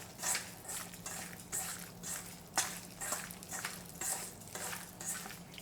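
A utensil stirs and mixes ingredients in a bowl for Korean sweet-and-sour crispy mushrooms, with soft, rhythmic, repeated strokes and light clinks close by and fairly quiet.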